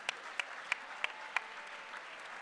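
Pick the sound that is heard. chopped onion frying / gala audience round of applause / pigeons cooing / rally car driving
gala audience round of applause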